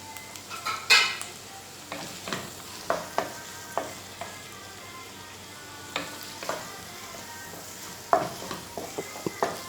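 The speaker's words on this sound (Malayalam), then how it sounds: "പകുതി കറിവേപ്പില ചേർത്ത് കൊടുക്കുക." Curry leaves hitting hot oil with frying onions in a pan for rava upma, a soft continuous sizzle broken by scattered stirring scrapes and spoon clinks against the metal.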